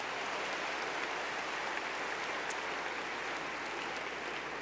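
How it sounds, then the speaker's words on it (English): A round of applause fills a large hall at a university leadership conference, steady and dense, many hands clapping at once without a break and heard from within the audience. "Let's give her a round of applause."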